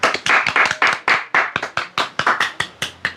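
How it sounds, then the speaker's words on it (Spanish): Studio audience applause on a Spanish talk show, a short burst of sharp, close hand claps from a few people, loud and lively with no talk over it. "Un aplauso."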